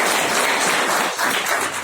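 Loud, dense applause from a meeting audience fills the room continuously, steady and close with no pause.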